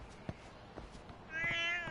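A cat meows briefly in the video game Lost Judgment, a short high mewing call rising near the end over a soft, low ambient game background.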